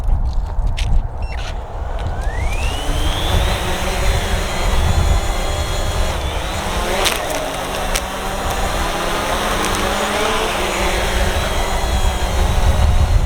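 A Hubsan Zino drone's motors spin up for an automatic takeoff, a loud, steady whir whose whining pitch climbs and shifts as it struggles to lift off the ground, heard close up.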